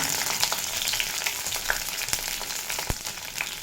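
Okra (bhindi) frying in hot mustard oil in a wok, a steady dense crackling sizzle with scattered sharp pops, close and continuous with no talking.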